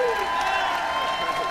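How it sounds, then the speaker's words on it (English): Audience at the Classic Tetris World Championship 2018 final applauds and cheers the champion, a dense, steady wash of clapping from a large crowd. A voice rides briefly over it. "Round of applause for the champion."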